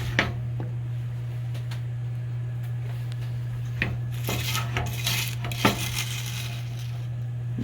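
A sturdy rubber spatula stirs and scrapes a thick marshmallow cereal mixture, giving scattered crunchy scrapes and light clinks over a steady low hum, with a louder burst of activity partway through.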